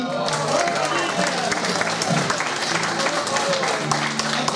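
An audience at a local event applauds a newly crowned queen, with steady, dense clapping from many hands that continues throughout while a voice speaks over it.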